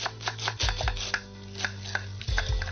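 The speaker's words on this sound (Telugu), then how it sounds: "క్యారెట్ తీసుకో. క్యారెట్ ఒకటేనా? ఓకే. సన్న కట్ చేయి, సన్నగరా." A knife chops a carrot into thin slices on a cutting board, a quick series of sharp, close taps over a steady musical background.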